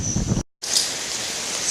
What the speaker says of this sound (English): It is definitely raining more.